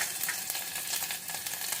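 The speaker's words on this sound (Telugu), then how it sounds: "మంచిగా ఇలాగా రోస్ట్ అయ్యే వరకు కలిపెట్టుకుంటూ ఉందాము" Garlic and ginger frying in about two tablespoons of ghee in a pan, a steady close crackling sizzle with faint stirring and no talk.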